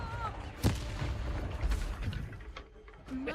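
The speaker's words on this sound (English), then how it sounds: "And I also blew up the bridge." A Confringo spell explosion blowing up a bridge in the Hogwarts Legacy video game, a sharp blast followed by booming rumble and scattered impacts over a noisy game backdrop, with voices briefly heard.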